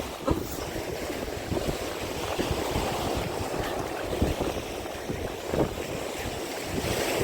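Sea waves wash ashore on the Black Sea coast between Karolino and Bugaz, a continuous close surf roar mixed with gusting wind buffeting the microphone, with no voices.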